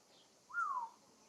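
An African grey parrot at an African animal reserve in France gives a single short, clear whistled call that glides slightly downward, faint against quiet surroundings.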